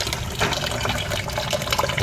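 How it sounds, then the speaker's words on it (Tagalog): Fish being washed under running tap water for sinigang, a continuous close splashing rush of water with small irregular splashes throughout. "So sunod hugasan guys yung fish."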